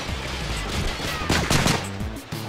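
Rapid gunfire in Call of Duty 4 Gun Game multiplayer, bursts of close, loud shots overlapping in quick succession across the whole moment, with no talking.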